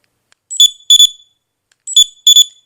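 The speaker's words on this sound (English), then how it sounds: "that weird little beeping" A remote-controlled dog training collar beeps in two pairs of sharp, high electronic chirps, close and loud, separated by a second of silence.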